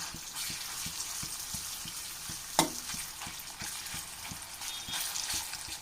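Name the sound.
chicken pieces frying in oil, turned over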